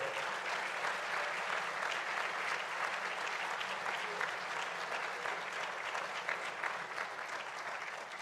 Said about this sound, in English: a round of applause for all of our future warriors that are in here today